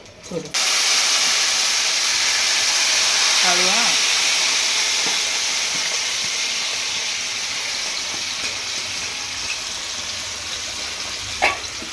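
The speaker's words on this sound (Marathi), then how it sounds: "बघा आता तेलामध्ये टाकून घेतले कैऱ्या" Boiled raw mango pieces frying in hot oil for a sweet pickle, a loud continuous sizzle and hiss that begins abruptly and gradually eases, with faint voices and occasional utensil clinks.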